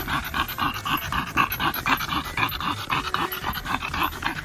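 A dog with breathing problems pants heavily and rapidly on a hot day outdoors, a steady close rhythm of quick breaths with faint whimpers.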